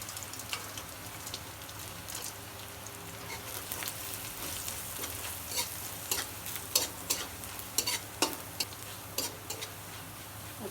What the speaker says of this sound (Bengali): তেলের উপর পেঁয়াজ রসুন দিয়ে দেবো। তেলের উপরে দিয়ে দিলাম একটু জিরা, তেলের উপরে দিয়ে দিলাম কুমড়ো বড়ি